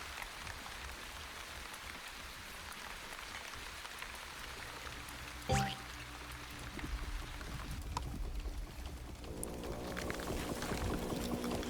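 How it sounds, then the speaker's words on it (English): Steady rain falls in the survival game The Wandering Village, a continuous soft patter of drops filling the scene, with a brief clatter midway and faint game effects rising near the end. "We're getting a lot of rain here."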